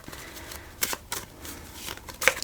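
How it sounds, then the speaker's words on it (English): Cards being shuffled up close: soft riffling and flicking bursts with small sharp snaps, fairly quiet and irregular. "let's shuffle these up"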